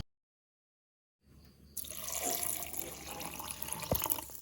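Water pours into a mixer jar holding cashews and almonds for homemade kulfi, a close, steady splashing fill that begins after a moment of silence and continues to the end, with no talking.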